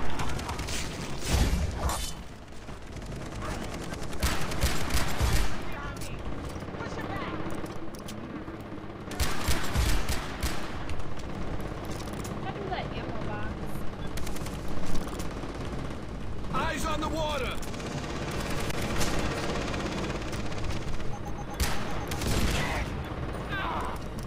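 Bursts of gunfire and explosive cracks in the open-world shooter Far Cry 3, sharp loud shots clustered in several volleys across the stretch, mixed with mechanical clatter, while people talk at points.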